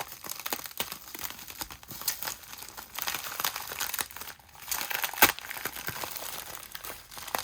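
Bubble wrap around a Valentine's package is unwrapped, giving continuous close crinkling and rustling with small tearing bursts and one sharp crackle partway through, and no talk.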